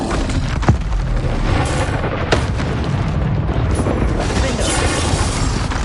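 Fiery Confringo blast spell explosions in Hogwarts Legacy, booming bursts amid dense continuous battle noise, with a sharp hit near the start and another midway.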